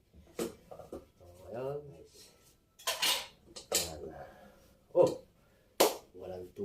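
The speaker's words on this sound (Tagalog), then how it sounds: "maghugas tayo ng kaldero" Metal pot clanks and scrapes in irregular bursts while someone talks nearby.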